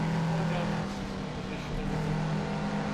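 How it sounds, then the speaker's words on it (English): Racing car engine in Assetto Corsa during an endurance race, a loud steady droning hum held at constant pitch for several seconds with slight dips, while people talk over it. "There's a lot of engine noise all of a sudden."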